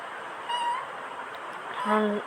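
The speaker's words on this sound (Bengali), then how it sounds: "ওই বিড়ালটার এখন মাত্র ঘুম ভাঙলো।" A cat just waking from sleep gives two short meows, the first soft and the second a touch louder and near, over a low room hiss in a quiet indoor setting.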